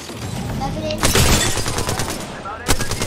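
Rapid bursts of video game gunfire crackle loudly through a tense firefight, with a heavy volley near the start and another short burst toward the end, while players talk over the shooting.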